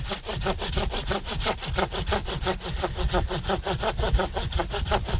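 A cheap hand saw cutting through walnut wood: steady rhythmic rasping strokes, about four per second, close and loud, continuing without pause and with no talk.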